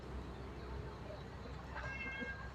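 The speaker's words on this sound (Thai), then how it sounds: "มีน้องเหมียว คอยรอรับหลวงปู่อยู่ที่นี้กัน" A cat meows at a rural Thai temple in the early morning, one short faint mew near the end under a person's narration.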